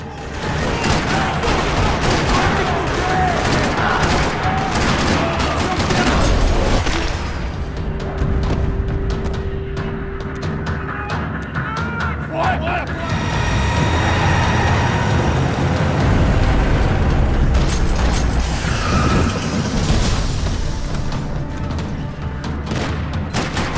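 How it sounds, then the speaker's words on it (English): In the video game Max Payne 3, dense bursts of rapid gunfire rattle almost without pause across a parking lot, layered with booms and a noisy, chaotic backdrop. "Another parking lot rattling with gunfire."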